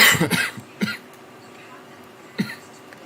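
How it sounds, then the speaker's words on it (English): A couple of rough coughs up front, then a quiet stretch before another short cough and a small throat sound, close to the listener. "Don't mind me coughing."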